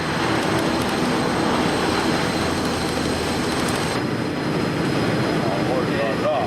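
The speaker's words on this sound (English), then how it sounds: "Within seconds, the aircraft hits the ultimate speed of Mach" Airbus A380 airliner diving at high speed during a flutter test flight, heard as a loud, steady, broadband roar of engines and rushing air that continues without a break.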